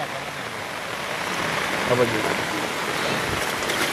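Rising floodwater rushes through the town streets of Dhanera, Gujarat, as a steady broadband wash of flowing water that swells slightly midway, with faint voices beneath.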